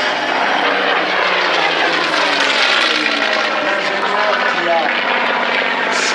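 A North American P-51 Mustang propeller aircraft drones steadily and loudly at an air show, its engine noise continuous throughout while someone speaks over it.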